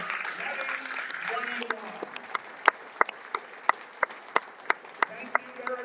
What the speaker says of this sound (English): a collective round of applause for our graduating class